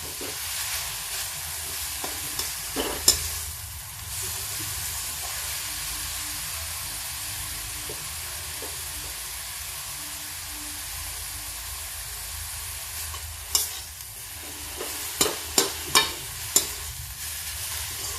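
Bottle gourd halwa roasting in ghee in a pan, a steady soft sizzle with occasional scraping clinks of a spoon stirring, busier near the end.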